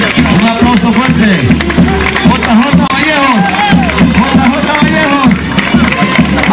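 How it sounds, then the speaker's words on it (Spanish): A crowd at a live broadcast program applauds loudly and cheers, the clapping dense and continuous throughout, with voices and someone speaking over the noise. "Marito, un aplauso fuerte."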